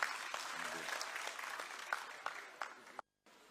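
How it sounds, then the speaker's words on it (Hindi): A crowd claps warmly at a Diwali Milan gathering held by a cement transport welfare association, dense applause with a few louder claps standing out, fading before a brief cut to silence near the end. "ताली बजाएं।"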